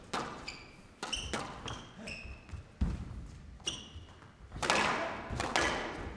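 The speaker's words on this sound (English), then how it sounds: "Got his right leg right behind the ball and then thumped it home." A squash ball is thumped hard with a racket in a professional match final: a string of sharp, ringing impacts and bounces in a reverberant court, with some crowd noise swelling near the end.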